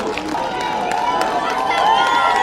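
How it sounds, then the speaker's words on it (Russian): Loud stadium crowd at a Georgia U19 versus Slovakia U19 football match roaring and applauding in a sustained ovation, with cheering rising toward the end. "Смотрите, какие овации, овации срывает."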